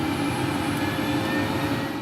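A helicopter flies over remote wilderness of forests, mountains and rivers, a steady loud engine and rotor drone with no talking.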